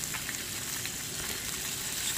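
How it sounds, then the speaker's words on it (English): Black pudding fries in a pan on a camp stove inside an old abandoned mill, giving a steady close hiss and crackle of sizzling fat throughout, with no talking. "The black pudding's cooking already."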